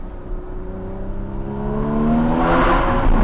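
Porsche Cayman GTS 981 engine, fully warmed up, revving close and loud, its pitch climbing smoothly over a few seconds into a rising, intensifying howl with no talking.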